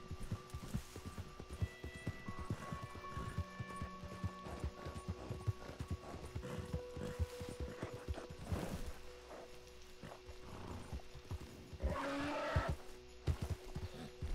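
Horse hooves clip-clopping steadily at close range in the Red Dead Online video game, with a brief snort or whinny near the end and game ambience underneath.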